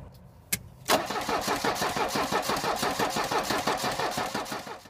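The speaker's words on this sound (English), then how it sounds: "we're going to turn the engine, see if the engine turns" An older Mercedes-Benz engine, fitted with injectors, cranks briefly after a sharp click, then catches and runs with a rhythmic, slightly uneven throb that stays close and steady.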